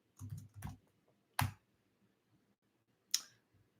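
A few scattered keystrokes on a computer keyboard, faint and isolated clicks with long quiet gaps between them, no voices.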